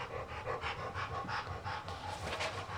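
A dog pants rapidly and rhythmically close by, a steady stream of quick, breathy huffs with no pauses.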